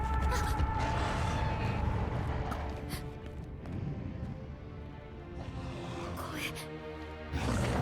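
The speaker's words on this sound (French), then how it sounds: "c'est le cri d'une Legiana Apex." Legiana Apex monster cry in Monster Hunter Stories 2, a harsh, creaking, roar-like call that rises at the start and again at the end, with a French voice speaking over the game sound.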